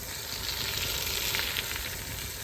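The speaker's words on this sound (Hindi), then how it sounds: "तो अच्छे तरीके से इसको ब्राउन करते हैं" Masala browning in a frying pan, with salt being added for a rice and potato dish, gives a steady, close hiss and crackle of sizzling oil that runs without a break and with no talk.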